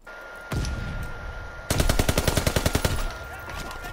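Automatic gunfire in Call of Duty WW2 multiplayer, a single loud shot followed by a rapid rhythmic burst of about a dozen close rounds, then a fading tail.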